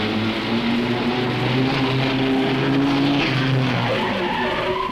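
In a Tamil comedy scene, a vehicle rolls past with a steady droning engine and a high squealing, skidding whine, loud and continuous throughout.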